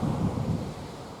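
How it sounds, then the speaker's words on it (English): Wind blasts up through a moorland quarry on a wet, rainy day, producing a loud, low rumbling buffet that rolls steadily for about a second. "the wind just blasts up the quarry onto you"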